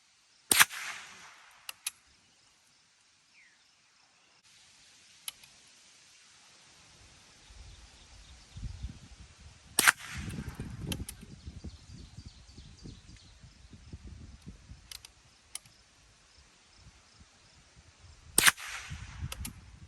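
A single-shot Springfield Model 15 .22 Long Rifle is fired outdoors at a food can. Several sharp, isolated cracks come seconds apart over a quiet background of faint rustling and light wind.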